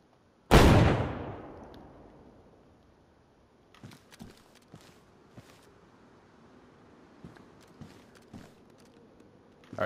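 A single loud shotgun blast in a video game PvP match, with a long decaying boom, followed by faint scattered footsteps and small impacts.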